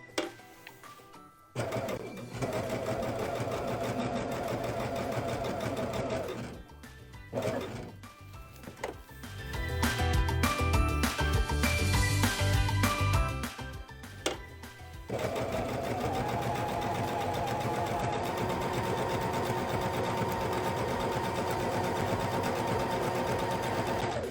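A Baby Lock Jazz 2 sewing machine runs in long, steady, close whirring stretches with brief pauses between them. One middle stretch sounds faster and harsher, and no one speaks.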